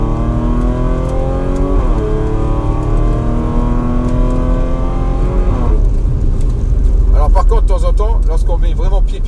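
Stage 3 ethanol-fuelled Audi S5 tuned to 530 hp accelerating hard in third gear, the loud engine note climbing steadily in pitch and dipping at each gear change, with a voice talking over the engine near the end.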